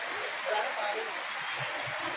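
Floodwater rushes steadily behind houses along a creek, a continuous broadband hiss like a fast stream, with a faint voice mixed in.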